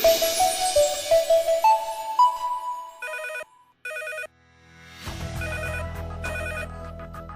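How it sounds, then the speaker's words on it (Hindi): A telephone bell rings in two short bursts with a brief gap between them, loud and close. A steady low hum follows underneath. "अचानक उस सन्नाटे में फोन की घंटी बजी।"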